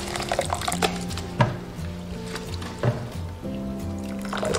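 Sesame seeds being rinsed in clean water through a mesh sieve, with close, continuous splashing and trickling plus a few sharp knocks against the sieve or bowl.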